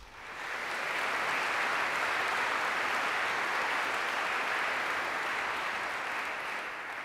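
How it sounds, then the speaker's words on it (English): An audience at the University of Sydney applauds the Freeman Dancers, a dense, even roar of clapping that swells in quickly and holds steady with no talk over it. "Please give a round of applause to the Freeman Dancers."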